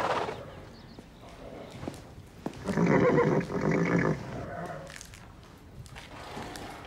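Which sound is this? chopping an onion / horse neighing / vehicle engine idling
horse neighing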